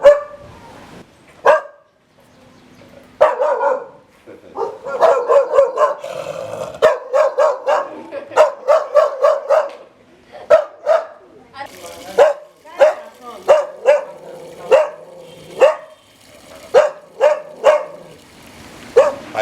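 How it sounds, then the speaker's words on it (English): A male dog at a veterinary clinic in Sierra Leone, recently castrated, barks again and again in short sharp bursts, close by and loud, mixed with yips and whimpers, while people talk in the background. "anytime somebody comes into the gate, he will bark"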